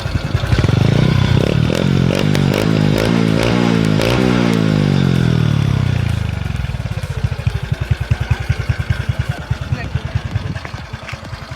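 Honda Dream Super Cup 110 motorcycle engine running close by, loud and steady at first with a rising rev, then dropping back to a rapid, rhythmic idle putter.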